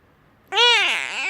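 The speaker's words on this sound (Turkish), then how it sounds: "Kedi dünya kadar kedi geldi." After a moment of near silence, a cat lets out one loud, drawn-out meow close by.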